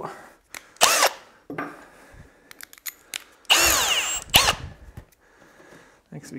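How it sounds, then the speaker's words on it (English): A power drill with a 25mm Forstner bit boring wood whirs in a few short bursts, one longer grinding run in the middle, with clicks and handling noises between. "first up, we have a 25mm Forstner bit"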